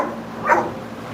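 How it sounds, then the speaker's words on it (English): A female dog gives a single short, fairly deep bark close by, standing briefly above a steady indoor background hum. "She does have a manly bark"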